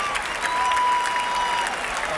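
Crowd at the 1995 US Open tennis final between Pete Sampras and Andre Agassi bursts into loud, sustained applause and cheering, a dense wash of clapping that holds steady throughout.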